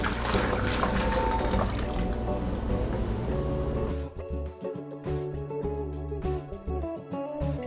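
Hot tap water rushes loudly over chicken wings in a sink, then the flow turns lighter, splashing and trickling with small knocks as the wings are rinsed.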